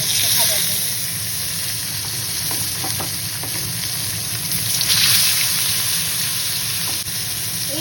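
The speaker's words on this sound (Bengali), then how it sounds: "এবার একটা একটা করে মাছ কড়াইতে তেল ছেড়ে দেবো" Katla fish pieces fry in hot oil in a kadai, giving a steady, close sizzle with occasional spitting pops and stirring.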